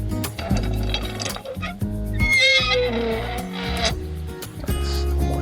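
An old rusty hinge on a cattle chute along Puerto Blanco Drive in Arizona, creaking and squealing in several drawn-out, whinny-like groans with a few metallic clinks in between, close and fairly loud.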